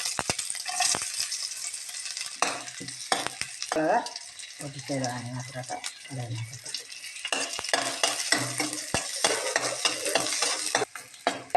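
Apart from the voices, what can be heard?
mustard seeds frying and sizzling in oil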